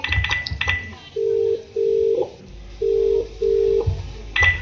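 A phone call is placed: quick keypad tones come first, then a steady ringback tone sounds in several evenly spaced bursts, and the call goes unanswered.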